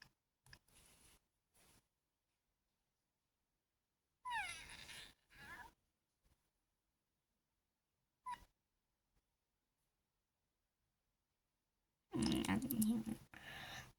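A cartoon cat in the Avatar World mobile game gives a few short meows between long silences, with people chatting quietly in Polish around them.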